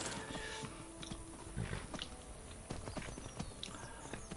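Hooves clip-clop from a horse in the video game Skyrim, soft and irregular under a dense, busy game soundscape with no voice.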